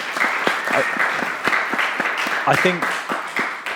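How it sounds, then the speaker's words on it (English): Audience applause at a COP26 climate youth panel event, a steady burst of clapping from a room of people lasting several seconds, with a voice partly audible over it. "So, I mean, round of applause, I think, for that"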